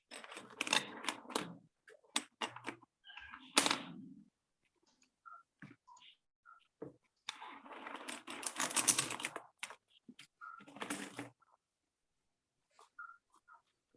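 Bursts of clicking keystrokes on a computer keyboard, quick irregular clusters separated by quiet gaps, close and fairly soft, with no talk.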